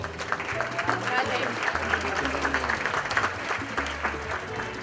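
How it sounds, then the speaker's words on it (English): Steady applause from an audience fills the room, a dense wash of clapping that continues at an even level throughout, with faint voices mixed in. "Round of applause to yourself."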